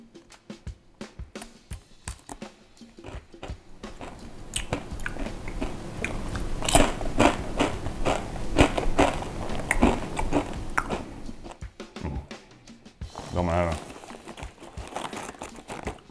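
Hard, extra-crisp sour cream and onion chips crunched and chewed close up, a long run of loud dense bites and crackles, with a little crinkling and no talk over it.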